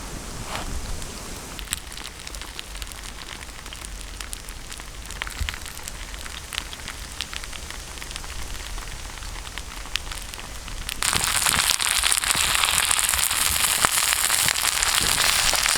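Kerala-style fish wrapped in banana leaf fries on a tawa with a crackling, popping sizzle. Partway through, it jumps into a louder, dense hiss that continues to the end. No one speaks.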